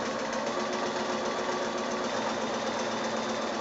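A sewing machine runs steadily, chain piecing a quarter inch seam around a curve on quilting squares for a small bag, its continuous motor whir and rapid stitching filling the space without pause.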